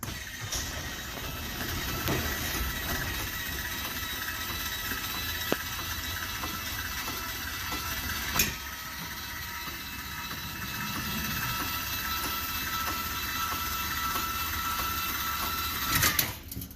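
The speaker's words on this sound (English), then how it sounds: "That's the backup crank for your stabilizer jacks." Stabilizer jacks on a 2020 Heartland Pioneer BH270 travel trailer are cranked down by hand, a faint continuous mechanical grinding and ratcheting with occasional sharp clicks and knocks.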